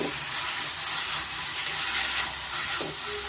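Grated white pumpkin fries in ghee for halwa, giving a soft, continuous hiss with a couple of faint stirring scrapes.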